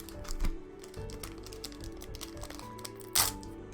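Final Fantasy TCG Opus VIII booster packs are handled close up: crisp crinkles, taps and rapid papery card shuffling in an irregular flurry, with one sharper crackle near the end, no talk.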